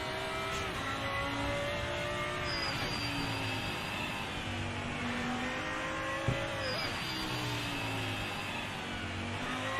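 A race car laps the Nürburgring in a racing video game, its engine revving steadily up and down through gear changes with brief tire noise, loud and close without talk.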